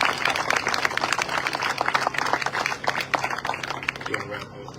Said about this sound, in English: let's just give one more big round of applause